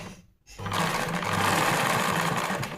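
A sewing machine stitches ready-made piping onto a folded blouse edge. After a brief pause, the motor starts up and whirs steadily at a close, loud, even pace until the end.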